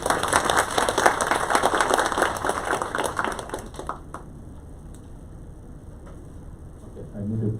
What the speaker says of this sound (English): let's give Prof. Cha a round of applause to welcome him for this talk